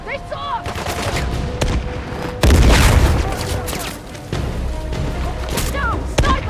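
Sniper gunfire in the video game Uncharted: The Lost Legacy, a few sharp cracks and one heavy booming shot amid steady battle noise, moderately loud, with voices talking over it.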